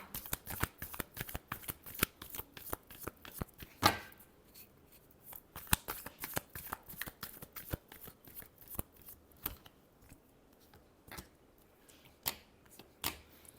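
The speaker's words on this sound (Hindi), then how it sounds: "last shuffle" Tarot cards being shuffled in a steady run of crisp riffles and flicks, close and clear, with a brief pause partway through and no talking.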